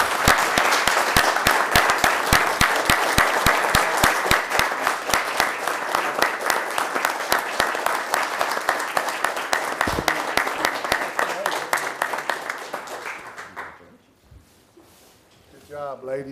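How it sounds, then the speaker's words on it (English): A city council meeting audience claps loudly and steadily in a dense burst for about thirteen seconds before it fades, followed by quiet room sound and a brief voice. "Can we give them a round of applause?"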